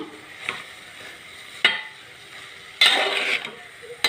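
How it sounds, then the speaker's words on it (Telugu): Cooked rice being stirred and fried in a hot pan, with soft scraping strokes and a steady faint sizzle, punctuated by a few louder clanks of a spatula against the pan, close up and without talk. "మొత్తం కలిపేసి ఒక్క నిమిషం వేయించి దించేస్తా"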